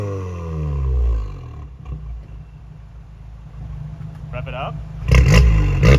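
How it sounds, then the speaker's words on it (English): A VW MK7 with an APR catback exhaust and catless downpipe rumbles through everyday driving, its engine note rising and falling as it accelerates. A sharper burst comes near the end, and people talk over it. "Normal everyday driving. APR catback."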